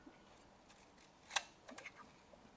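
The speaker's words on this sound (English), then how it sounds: "close the aperture and then it trips the shutter" An Exakta camera's plunger trips the shutter, giving one sharp mechanical click followed by a few faint smaller clicks, close and quiet.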